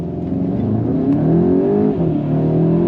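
Car accelerating hard during a timed acceleration run, a loud steady engine roar climbing in pitch through the gears with a brief shift dip, heard close and without talk.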